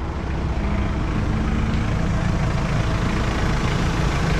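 A van engine idles, a steady low rumble with an even, continuous drone and no revving, close and alone without voices.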